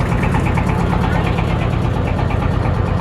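A motor boat engine drones loudly and continuously at low speed on Tanguar Haor, a dense steady rumble close at hand.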